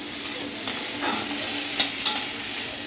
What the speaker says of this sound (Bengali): এবার দিয়ে দেবো কেটে রাখা কাঁচা আম।